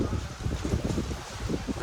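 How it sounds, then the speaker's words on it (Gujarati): Strong wind gusts buffet the microphone on the hilltop at Pavagadh during rain, a rough, fluttering low roar that rises and falls in quick pulses, close and loud, with no voices. "તમે જોઈ શકો છો કે કેટલો બધો પવન ફૂંકાઈ રહ્યો છે, બહુ જ પવન"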